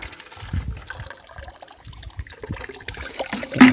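Water poured by hand for coconut palms in a Konkan garden, heard as intermittent soft splashes and trickles, quiet overall, with a louder splash near the end.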